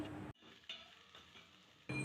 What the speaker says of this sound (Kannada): ಚೆನ್ನಾಗಿ ಮಿಕ್ಸ್ ಮಾಡಿಕೊಂಡು ಫ್ರೈ ಮಾಡ್ಕೊಳ್ತಾ ಇದ್ದೀನಿ